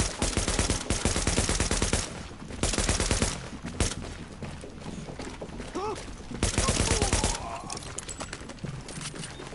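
Gunfire rattles in The Division video game as supplies come under attack, with dense bursts of automatic fire in loud clusters separated by shorter gaps, and a voice speaking over parts of it.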